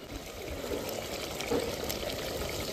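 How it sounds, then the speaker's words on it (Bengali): Spice-rinse water poured from a container into mutton curry cooking in a clay pot, a steady, close splashing trickle lasting throughout with no talking. "এই মশলার জল ধোয়া ছিল সেই জলটা দেবো, বেশি দেবো না"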